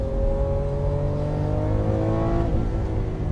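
A Lamborghini Aventador's V12 engine revs steadily with a rising, continuous high-pitched wail heard from inside the car, loud and alone without talk.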